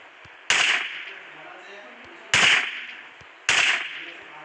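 Sniper rifle fire in a zombie shooting video game: three sharp, loud cracks spaced about two seconds apart, each trailing off quickly over a quiet background.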